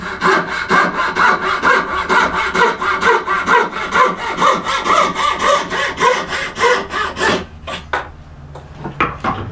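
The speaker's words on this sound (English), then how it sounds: "you can pick up another saw and saw it, but I've got this saw in my hands" A hand saw cuts through a wooden tenon with steady, loud back-and-forth rasping strokes in a regular rhythm, then slows to a few final pulls and stops.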